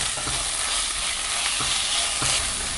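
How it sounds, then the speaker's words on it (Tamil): Ginger garlic paste and green chilies sautéing in a pan with steady frying hiss and occasional stirring scrapes, close and continuous with no talk. "இதில் ரொம்ப காரம் இல்லை, பச்சை வாசம் போகிற வரைக்கும் நல்லா வதக்கிக்கலாம்."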